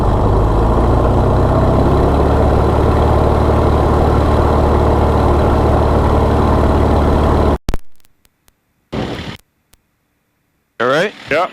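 Lancair light aircraft engine run up to full throttle with mixture full rich before takeoff, a loud steady broadband roar for several seconds that cuts off abruptly, followed by brief clicks and a short snatch of talk.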